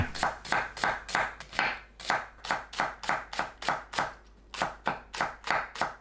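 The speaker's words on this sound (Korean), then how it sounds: "양파, 파를 얇게 썰어주세요." A knife thinly slices onion and green onion on a cutting board, with crisp, evenly spaced strikes about two or three per second and one brief pause.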